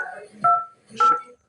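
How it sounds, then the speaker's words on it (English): Two telephone keypad dialing tones, each a short, clear electronic beep about a quarter second long, separated by a brief pause with faint background noise. "She was dialing numbers."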